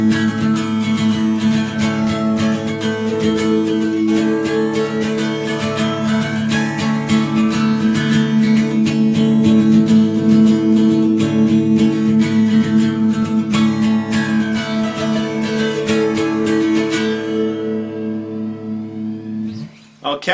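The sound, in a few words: electric guitar, clean amp tone, song intro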